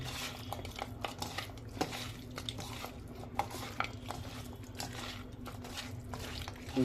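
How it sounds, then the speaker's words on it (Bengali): Spoon scraping and stirring through food being mixed with salt in a pot, a steady soft rustle with small clinks, faint and close, no talk. "এভাবে সুন্দর করে মিক্স করতে হবে, মিক্স করতেছি, দেখতে পাচ্ছেন"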